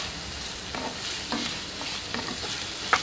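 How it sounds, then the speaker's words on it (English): Chopped onions sauté over a medium-high flame for a soya chunk masala, giving a steady faint sizzle with a few soft stirring scrapes and one sharper clink near the end, no voices. "now I'll keep it medium to high flame and I'm going to saute the onions"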